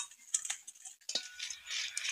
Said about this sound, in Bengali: শুকনো কড়ায় 7টা শুকনো লঙ্কা দিয়ে দিচ্ছি